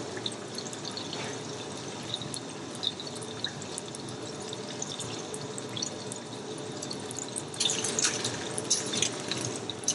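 Small seafood legs fry in a wok that is not very hot. A continuous wet, crackling sizzle runs throughout, with scattered pops and a louder, busier burst near the end, close up and with no talk.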